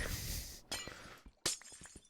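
Glass blocks breaking in Minecraft, a few sharp crisp shattering bursts with short gaps between, fairly close and with no talk.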